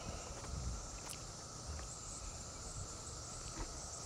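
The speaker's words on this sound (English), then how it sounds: "You can hear the cicadas making all kinds of horrible noise, as they do." A constant high-pitched drone of cicadas fills the background, steady and fairly faint, with a few soft footsteps and rustles underneath on a walk outdoors.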